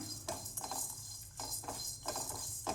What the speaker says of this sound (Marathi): सगळ्यात आधी धने टाकलेले आहेत मी धने एक दोन एक मिनिटभर थोडेसे परतून घेऊया